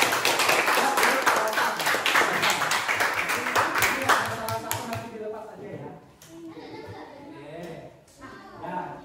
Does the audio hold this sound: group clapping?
yes